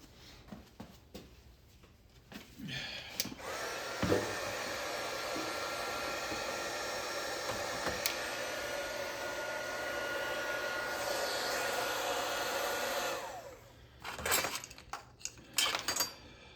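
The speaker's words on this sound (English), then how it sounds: "Maybe I'll just use a heat gun on them. Dry them off real quick." A heat gun blows hot air over parts from a 2008 Golden Tee arcade game being cleaned, a loud, steady roar that runs for about nine seconds before cutting off, with light clinks of the parts around it.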